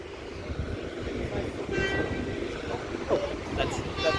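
A Sydney Trains Millennium M set rolls past at Macdonaldtown, its steady rumble and rail clatter filling the scene, with brief horn-like tones and a few voices nearby.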